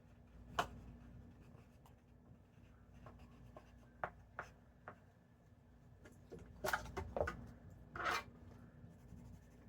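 Marker strokes on a paper chart, writing a word in pink: a quiet series of short scratchy squeaks and taps, sparse at first and then clustering into quicker bursts, with no talking.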